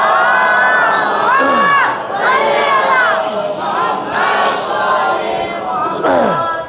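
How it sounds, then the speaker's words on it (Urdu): A large crowd at a religious celebration in an imambargah loudly chants the salawat in several rising, surging waves of massed voices, with strong, full-throated shouts filling the hall. "آپ حضرات ایک بلند ترین نعرہ صلوات کا سہارا دیں"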